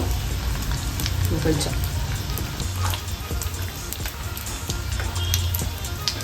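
Leftover-rice vadai deep frying in hot oil gives a steady, close, bubbling crackle and sizzle throughout, with a voice talking over it now and then.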